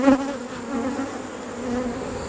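A steady swarm of bees in a frameless hive hums continuously, close and fairly loud, with a wavering drone and no voices.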